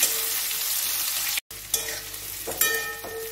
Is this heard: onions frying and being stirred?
yes